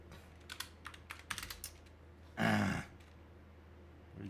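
Scattered quiet keystrokes tap on a computer keyboard during coding, followed by one louder, longer clack or thump, then a near-silent pause.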